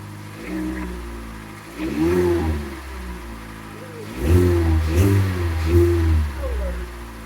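Engine of a 2012 Kia Soul with a 2.0-liter four-cylinder revving after a misfire fix, two rising and falling rev bursts over a steady idle, close and fairly loud.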